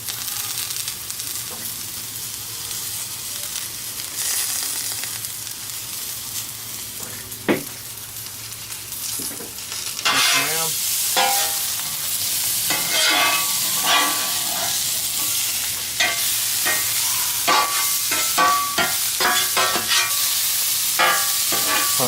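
Salt-and-pepper-seasoned peppers sizzle on a Blackstone griddle. A quieter hiss builds into a loud, crackling sizzle about halfway through, with sharp scrapes and clicks from stirring on top.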